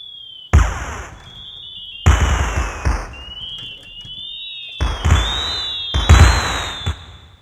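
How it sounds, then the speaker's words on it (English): Several loud firework bangs burst close by with ringing whistles between them, scattered unevenly over a few seconds. "That's a firework."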